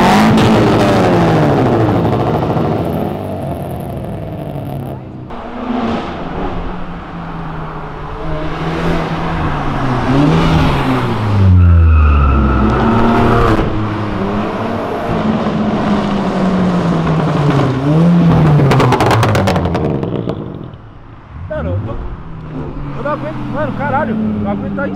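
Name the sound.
Volkswagen Jetta GLI stage 4 400 hp accelerating hard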